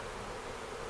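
Dense honeybees buzz continuously during package bee production as a crew harvests bees into packages, a steady close swarm drone with no talking over it.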